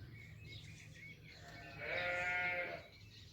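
Goats bleat in a wavering, nasal call that swells in the middle and then fades, over a steady low background hum, in a village. No one speaks.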